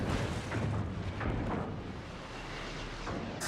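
Secondary guns on the battleship Bismarck fire in World of Warships, producing a dense barrage of booms and blasts over a constant roar of battle noise, loud and close for a few seconds.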